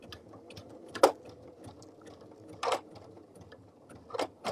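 A sewing machine runs a serpentine stitch on a bag, a soft steady mechanical whir and patter broken by a few sharper clunks from the machine.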